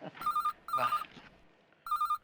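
A telephone rings with a trilling electronic tone, three short bursts separated by brief silences, clear and close.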